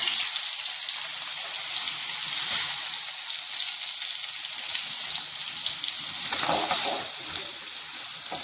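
Finely chopped onion and tomato fry in a pan for a ridge gourd chutney, producing a loud, steady, close sizzling hiss that holds for over eight seconds with a brief swell toward the end.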